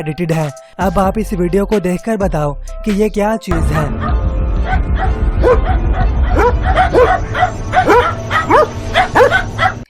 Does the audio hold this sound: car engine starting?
no